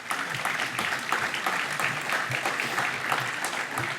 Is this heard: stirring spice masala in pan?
no